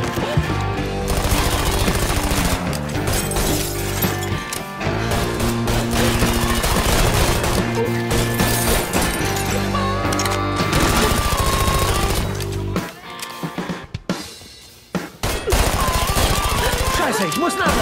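Machine-gun fire in the video game Mafia 3, long sustained rattling bursts under loud music and game noise, breaking off briefly near the end before resuming.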